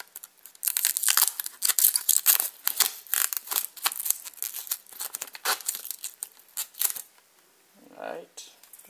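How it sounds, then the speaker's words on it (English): Plastic packaging pieces being pulled free while unboxing a Seagate GoFlex Home 2TB drive: dense, close crinkling and rustling in quick bursts, with a short lower rustle near the end. "Some plastic pieces on the top as well. I'm just trying to get those out of the way."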